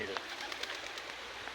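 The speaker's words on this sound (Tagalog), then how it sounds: "Ito yung mga ibon dito sa forest nila." Forest birds call faintly from a distance, with a few short coos and chirps over quiet ambient background.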